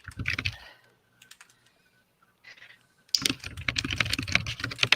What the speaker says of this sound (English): I can't figure out who's typing.